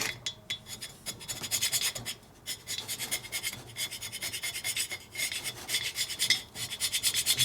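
A carbide scraper rasps gasket material off a 1972 Harley-Davidson FLH 98ci shovelhead stroker engine, steady repeated close scraping strokes with brief pauses.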